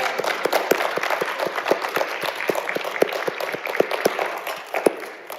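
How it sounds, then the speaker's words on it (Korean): A congregation applauds during an evening church worship service, giving dense, steady clapping from many hands at moderate volume for several seconds before it starts to fade. "우리 하나님께 영광의 박수요"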